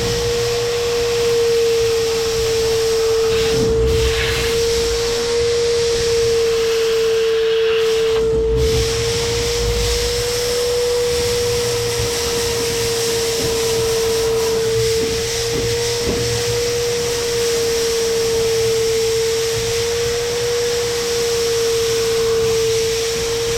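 A vacuum runs steadily at close range while cleaning out a planter, a continuous droning whine with a fixed pitch and a broad hiss, holding level with little change throughout and no talking.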